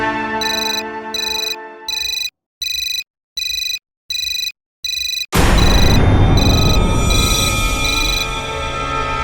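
An incoming call sets off a mobile phone ringtone. It plays as loud, close, evenly pulsed electronic tones for about five seconds, then cuts into a sudden dense, noisy burst that fades away.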